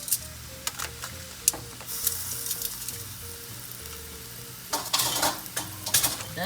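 Seafood pasta sauce with lobster, shrimp and rice wine sizzles steadily in a pan, close and fairly loud, with occasional clinks and scrapes of a utensil against the pan and sharper bursts of sizzling toward the end.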